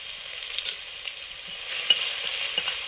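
Panch phoron spices and chopped garlic fry in a pan for prawn and pui-seed curry, giving a steady close sizzle with scattered crackles and a few soft stirring scrapes, no voices.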